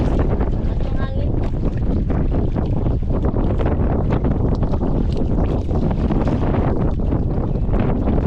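Strong wind buffets a fishing boat at sea while fish traps are hauled, roaring steadily across the microphone with constant gusty rumble throughout.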